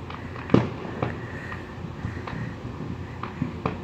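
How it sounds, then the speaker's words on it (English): Fourth of July fireworks going off at a distance, a few scattered bangs and crackling pops spaced irregularly over a low outdoor background. "look at the fireworks."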